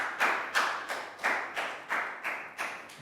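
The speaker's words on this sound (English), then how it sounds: "Big round of applause for Bangpon." Eight evenly spaced claps ring out in a steady rhythm in a classroom, moderately close, with no talking over them.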